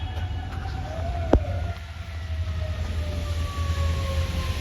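A fire department emergency vehicle's siren wails faintly in the distance, its tone gliding slowly over steady road and engine rumble on a snowy drive in White Plains, New York.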